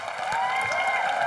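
Studio audience at a Hindi television comedy show applauds in a steady, dense wash of clapping that holds at an even level throughout, with no voices over it.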